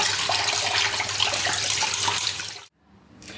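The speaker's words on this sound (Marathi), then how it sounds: "असे डायरेक्ट नळाच्या खाली धुवून घ्यायचे" River fish being washed directly under a running tap, a loud continuous rush of water that cuts off abruptly near the end, then a brief quieter trickle.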